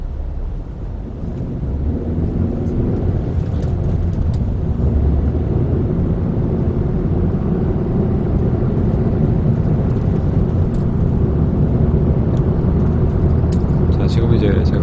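Chevrolet Aveo (Sonic) with a manual gearbox accelerating at night on Korean city streets and highway, shifting up to third gear around 3000 rpm; a loud, steady engine drone with road and wind rumble runs throughout.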